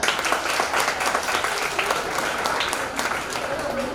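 At a Pongal festival prize-giving held by the Tamil Missionary Association in Mawlamyine, an audience claps continuously, a dense and even burst of applause from a crowd that fills the whole moment.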